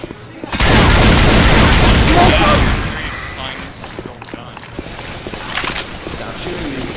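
Gunfire in Left 4 Dead 2: a dense, loud burst of rapid shots lasts a couple of seconds, then scattered lighter shots and game noise continue, with players talking over it.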